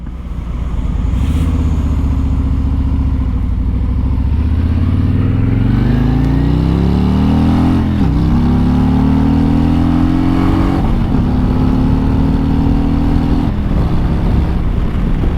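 A 2024 Harley-Davidson Street Glide engine roars loudly up close in the rain, revving and accelerating through several gear changes, its pitch climbing repeatedly then dropping between shifts.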